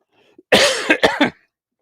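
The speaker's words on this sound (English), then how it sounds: "excuse me while I clear my throat." A person clears their throat with a few harsh, rasping bursts, close and loud, alone against silence.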